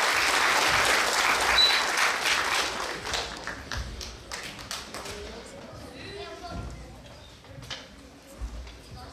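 Audience applause at an evening arts program of a madrasa in Rožaje, loud dense clapping that thins into scattered claps and fades, with a voice beginning to speak near the end.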